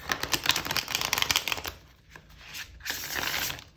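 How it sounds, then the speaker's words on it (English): Crisp, rapid fluttering of slightly stiff tarot cards being riffle shuffled close up, a brief pause, then another flurry of shuffling. "let's see how this riffle shuffles on camera"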